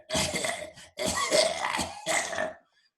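A voice imitates a monster coughing: three harsh, raspy hacking bursts in quick succession, close and loud, then silence.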